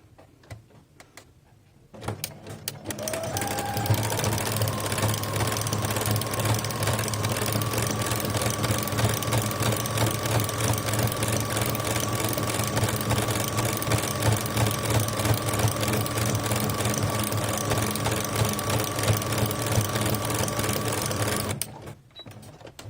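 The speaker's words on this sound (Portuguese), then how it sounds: "eu vou levar essa aqui pra máquina pra mostrar pra vocês ela funcionando com o pé de pregas" A sewing machine fitted with a pleating foot starts up after a quiet moment, then runs at a fast, steady mechanical whir for nearly twenty seconds before stopping abruptly.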